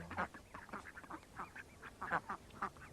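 Several ducks quack in a loose, irregular chorus outdoors, a faint but busy run of nasal calls with no talking.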